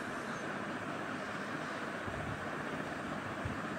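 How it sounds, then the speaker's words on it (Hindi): A kitchen mixer grinder whirs steadily, grinding green chilies with mint and a little water for a haleem green masala, a loud, dense, continuous whir close by with no talking. "अब मैं इसको ग्राइंड कर लूँगी।"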